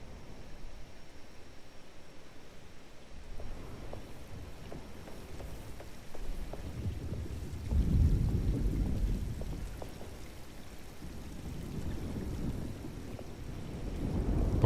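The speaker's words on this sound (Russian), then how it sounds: "Looks like a storm's coming. Radio says it could get real bad." Rain and rolling thunder from a storm in the video game Alone in the Dark (2024), with steady rainfall throughout and deep thunder rumbles swelling several times, the loudest midway through.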